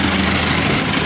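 A Massey Ferguson 385 tractor hauling a fully loaded soil trolley stuck in the ground rumbles with a loud, steady, close engine drone, with no talk over it.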